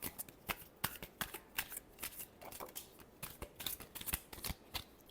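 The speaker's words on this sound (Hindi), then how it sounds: "Last shuffle." Tarot cards are shuffled in quick, papery riffles and flicks, a soft, busy stream of rapid card slaps that carries on steadily and close up, with no talk.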